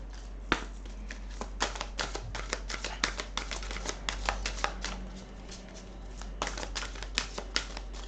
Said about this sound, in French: on va tirer quelques cartes de l'oracle des fées